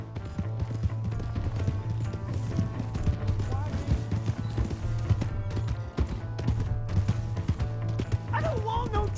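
Rapid horse hoofbeats clatter continuously over a dense mix of shouting voices, a dog barking and a horse whinnying near the end, in Red Dead Redemption 2.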